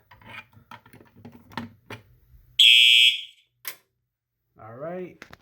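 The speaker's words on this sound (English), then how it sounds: "let me also grab something to test the smoke detector with" A smoke detector test on a Simplex 4006 fire alarm panel sets off a single loud, shrill alarm tone lasting under a second. A voice speaks before it, and a sweeping tonal sound follows after a short silence.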